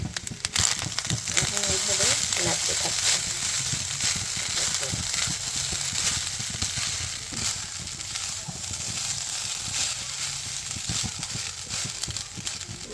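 Leftover rice with salt and turmeric frying in a pan, a continuous low sizzle with frequent scraping stirs, and a voice talks over parts of it.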